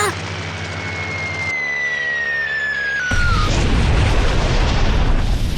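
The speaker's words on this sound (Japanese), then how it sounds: "爆弾が命中。" A bomb strikes the aircraft carrier Ryujo in a 3DCG animation, bursting in as a sudden loud, broad explosion roar that cuts across a descending whistle and a droning engine tone.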